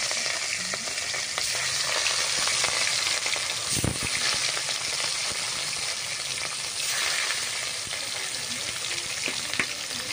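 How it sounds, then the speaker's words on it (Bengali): Pieces of fish fry in hot oil in a home kitchen with a steady, moderate sizzle and crackle that continues without a break. Small spits and pops rise out of it, and one brief louder clatter comes near the middle. "এদিকে কিন্তু আমার মাছ ভাজা হচ্ছে, দেখতে পাচ্ছ"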